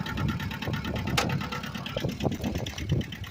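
A 1984 Toyota Tercel SR5 four-wheel-drive engine running in four-wheel-drive low, a close, steady mechanical chatter with a rapid rhythmic ticking, a few brief clanks over it.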